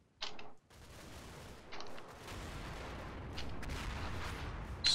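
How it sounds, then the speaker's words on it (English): Howitzer artillery fire in the wartime strategy game Combat Mission: Battle for Normandy, sharp distant booms at the start and again near the two-second mark over a steady rumbling battlefield din that swells toward the end. "Let's see if the howitzers can clear out this AT."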